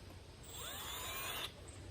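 A handheld power drill drives a screw into a wooden pallet gate, its motor whining and rising in pitch for about a second before it cuts off, faint and short, with no talking.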